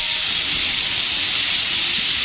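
A kitchen pressure cooker whistles and releases steam while cooking jeera rice on medium flame, a loud, continuous, close hiss that stays steady from start to finish.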